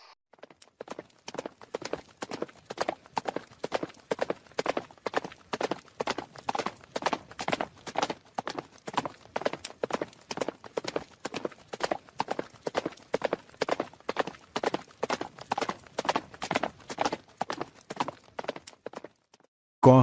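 Horse hooves clip-clop in a steady, rapid rhythm in the video game Grand Truck Simulator, with dozens of evenly spaced, fairly close strikes that run throughout and stop abruptly at the end.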